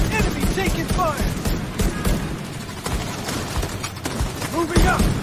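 Rapid bursts of gunfire from The Division 2 on PS4 Pro crackle continuously and loudly, layered with game effects and overlapping voices of players talking.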